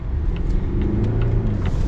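A 2025 Volvo XC60 plug-in hybrid accelerates, heard from inside as a steady low engine and road rumble with faint ticking, held at a constant level for under two seconds.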